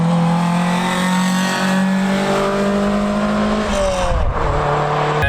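The exhaust of a Toyota MR2 fitted with a new Volkswagen muffler drones steadily while driving, with a sustained buzzy tone that dips in pitch as the revs drop near the end, heard from inside the car.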